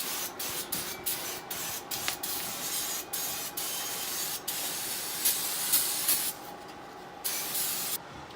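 Aerosol brake cleaner hisses onto exhaust headers in a run of short and longer bursts with brief gaps between them, close and fairly loud, no voices.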